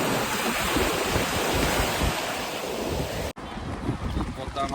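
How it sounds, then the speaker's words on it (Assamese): Sea waves roll onto a beach in Goa as a loud, continuous wash of surf with heavy wind buffeting the microphone, a brief break near the end. "সাগৰৰ ঢৌখিনি কিমান ভাল লাগে"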